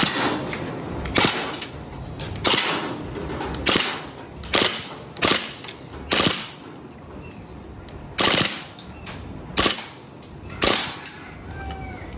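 A DB Glock 18 airsoft gas pistol, newly bought with a new magazine and suspected of malfunctioning, fires loud, sharp cracks in uneven single shots and short bursts, about a dozen across the stretch, with no talk.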